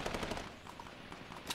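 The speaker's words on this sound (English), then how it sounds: "I got my machine gun." Machine gun fire in the video game Fortnite comes in quick bursts of clipped shots, moderately faint and a little distant, with no voices over it.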